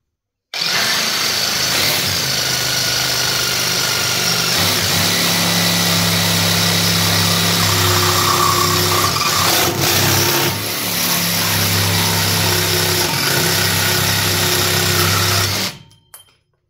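An Evolution jigsaw cuts through aluminium with a loud, steady buzzing whine that runs unbroken for about fifteen seconds before cutting off, with no talk over it.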